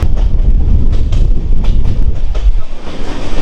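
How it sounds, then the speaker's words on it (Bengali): Train running slowly along a winding hill railway toward Silchar, Assam, heard from on board as a loud, steady low rumble with faint rhythmic clatter and wind noise, no voices. "বেশ আঁকা বাঁকা রেল পথ ধরে আমাদের ট্রেন খুব জোরে দৌড়চ্ছে না, খুবই ধীমি গতিতে দৌড়াচ্ছে"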